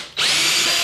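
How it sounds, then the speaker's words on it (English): A power drill bores holes through wood for a glue jig laid against an MDF pattern board, a loud, steady close-up whine that starts abruptly and runs with no talking. "And drill your second hole."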